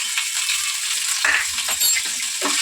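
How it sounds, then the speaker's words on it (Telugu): Thinly chopped ginger fries in hot oil with mustard seeds, cumin and urad dal for rava kichdi, a continuous close sizzle with occasional spatula scrapes and small crackles. "అల్లం కూడా మనం బాగా వేగుతున్నాం"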